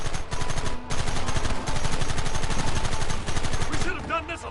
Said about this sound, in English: Targets on the horizon. Fire at will!